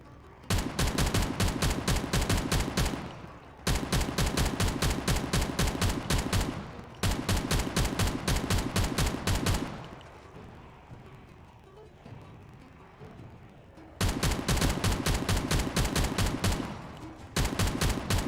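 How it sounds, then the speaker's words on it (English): Machine gun in the game Factorio, modded with Space Exploration and Krastorio 2, fires in long, loud continuous bursts of rapid, evenly spaced shots, broken by a few seconds of quieter background between them. "That's me holding down the fire on this machine gun, by the way."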